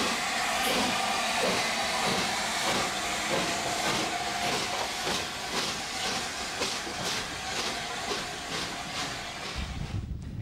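A steam train on the North Yorkshire Moors Railway chuffs past with loud hissing steam and rhythmic rail clatter, steady and close for the whole stretch.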